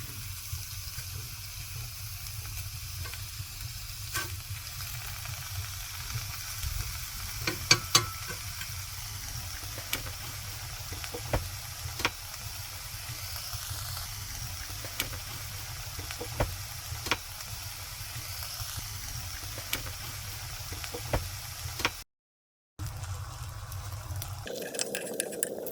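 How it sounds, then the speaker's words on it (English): Bacon sizzles in a frying pan on a home stovetop ahead of a Wagyu beef burger, a steady, quiet crackling hiss with scattered pops that runs almost unbroken, with one brief dropout near the end. "And we can hear that sizzling straight away,"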